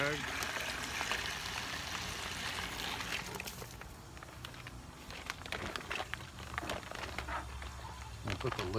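Water streams and splashes steadily into a wine kit bag sitting in a bucket being filled to the 6-gallon mark, a continuous rushing pour mixed with low background noise and handling sounds.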